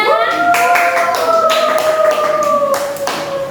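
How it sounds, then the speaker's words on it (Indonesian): Primary school classroom clapping hands together, a brief burst of rhythmic claps under a sustained voice, close and moderately loud. "Tepuk tangan semuanya."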